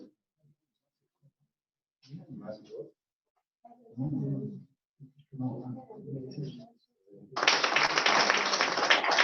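Audience applause breaks out loudly at a 50th-anniversary celebration event, following several short bursts of someone speaking Spanish into a microphone, and continues as a dense, steady wash of clapping to the end.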